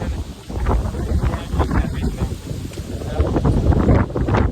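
Strong gusty wind roars steadily across a village rooftop in Botad ahead of the first monsoon rain, a dense buffeting rush on the microphone with no voices.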